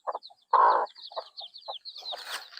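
Chickens on a small mini farm give short, irregular clucks, with one louder, longer squawk near the start and faint chirps running through, close and clear with no talking.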